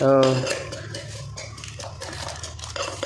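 Chilli is pounded in a mortar and pestle for a picnic meal, giving quick, uneven hard knocks and clinks after a brief voice at the start.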